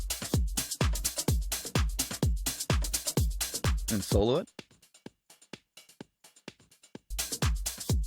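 A drum break loop for a tech house remix pounds out punchy, evenly spaced kicks and snares, drops to softer scattered hits while someone speaks briefly, then slams back in at full level.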